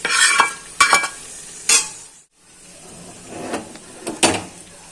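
A spatula scrapes and tosses restaurant-style mixed fried rice with capsicum, beans, shrimp, chicken and egg in a hot pan, giving several sharp clattering strokes over a faint sizzle, with a brief quiet gap midway.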